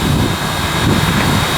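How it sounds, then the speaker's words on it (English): A sugarcane train's steam engine revs up, giving a loud, steady roar of rushing, chuffing noise that fills the whole span without pause. "The engineer is revving up the steam engine."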